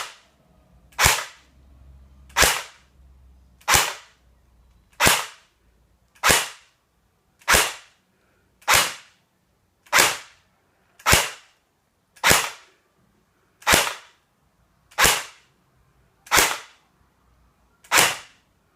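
A Spartac AK airsoft rifle fires 0.2 gram BBs in about fifteen single sharp cracks, evenly spaced a bit over a second apart, each loud and close with a quick decay and no talk between them.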